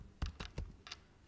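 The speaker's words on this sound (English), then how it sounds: "When the terminal is ready, just type the command sudo" Keystrokes on a computer keyboard as a terminal command is typed: four quick, close clicks in an uneven burst, the last one lighter, with no talking.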